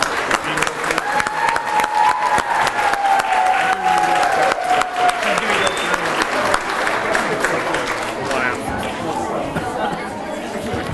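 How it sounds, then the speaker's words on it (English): Applause from an audience at a school DARE program event, a sustained wash of clapping mixed with crowd chatter, with voices talking through it and the clapping thinning toward the end. "A round of applause."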